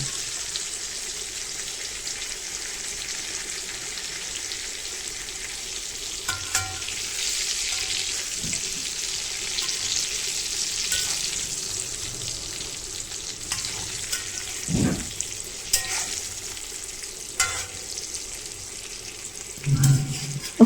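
Thorny brinjal frying in a pan, a continuous close sizzle with occasional stirring scrapes and a few soft knocks, steady throughout without talk.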